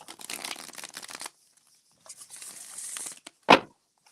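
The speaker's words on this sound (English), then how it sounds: "I'm gonna do some more shuffling here." A deck of cards is shuffled twice in quick riffling bursts, close and crisp, followed by a single sharp snap as the cards are squared.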